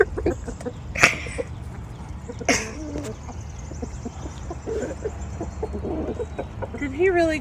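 A backyard rooster in a suburban garden gives a few sharp clucks and squawks over a low background rumble, with people talking softly nearby.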